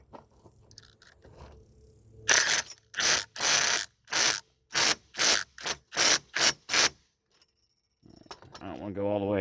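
A power impact driver fitted with a Klein impact socket set hammers in about eight loud, evenly spaced bursts, each a sharp rattling ratchet of a couple of seconds' total run, with near silence between.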